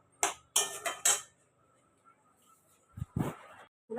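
A spoon clatters against a pan where masala is sautéed with chicken over low flame, with several sharp metallic knocks at the start and a couple more later, separated by near silence.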